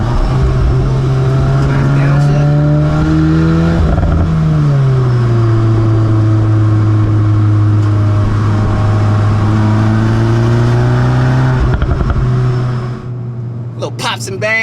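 A VW MK8 Golf R with a DSG gearbox drones loudly nearby, its engine note rising and falling through a revving sweep before easing off near the end, with faint crackles of exhaust pops.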